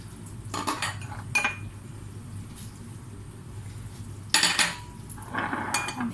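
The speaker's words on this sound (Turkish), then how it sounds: "Şimdi ben yumurtalarımla şekerimi bir güzel çırpacağım." A whisk beating eggs and sugar knocks and scrapes against a bowl in a few short bursts of clinking, separated by quiet stretches with a low background hum.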